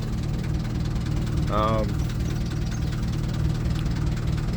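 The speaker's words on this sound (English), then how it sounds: "I've got the engine in very low res because I've just passed a few more boats." A narrowboat engine idles at low revs with a steady, knocking chug throughout, close by, with a brief faint voice over it, cruising on the Oxford Canal in the early morning.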